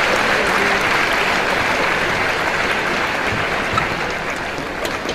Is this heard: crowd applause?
yes